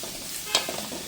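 Onions and green chilies sautéing with chicken in a pan for a Kerala-style dish, a soft continuous sizzle with a few quick stirring scrapes and clinks close by.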